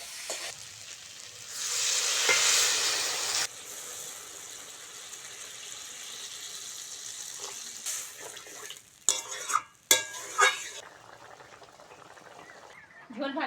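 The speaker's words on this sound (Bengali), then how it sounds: "মশলার সঙ্গে আদা রসুন বাটাটা ভালো করে ভেজে নিয়েছি। এবার জল দিয়ে দেবো।" Ginger-garlic paste and spices frying in a pan for a bhetki fish-bone curry, with a loud burst of sizzling early on that settles to a steady fry, then a few sharp clinks of a utensil against the pot near the end.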